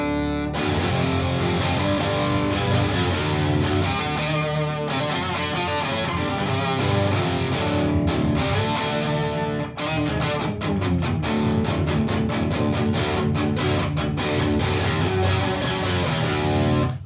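A distorted instrument fills the whole stretch with a dense, gritty, sustained tone and heavy low end, loud and continuous, with no voices.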